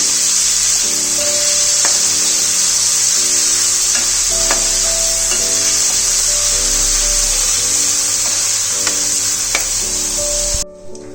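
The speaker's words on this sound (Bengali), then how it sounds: "চিংড়ি মাছটা নুন হলুদ দিয়ে আমি ম্যারিনেট করে দিয়েছিলাম, ওটা একটু হালকা সতে করে নেব" Marinated prawns coated in salt and turmeric sautéing in hot oil, giving a steady loud sizzle throughout, with repeated scraping stirs and light clinks of a utensil against the pan.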